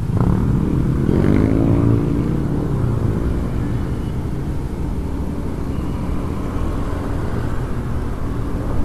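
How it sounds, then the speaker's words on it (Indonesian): A Honda Beat scooter running Shell Advance oil pulls away through dense traffic, its engine note climbing in a quick rising whine early on before holding a steady drone among the surrounding traffic noise. "Tuh baru tancap gas udah 60, kelihatan."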